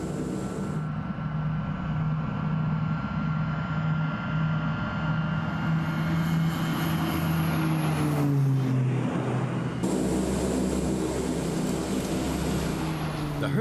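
Lockheed Hercules turboprop transport aircraft climbing in flight, a steady loud engine drone with a tone that dips and shifts midway, speech faintly mixed in.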